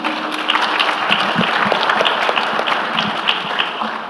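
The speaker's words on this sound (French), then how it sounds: "Je crois qu'on peut l'applaudir et on peut le remercier." Audience applause at a tourism panel of a PPP forum held in a conference hall, a steady wash of many hands clapping at moderate volume for the whole stretch.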